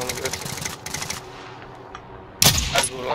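Automatic gunfire from the video game Call of Duty Warzone, an HDR or AX-50 sniper setup, rattles in quick bursts, then a louder close burst near the end, with faint game ambience between.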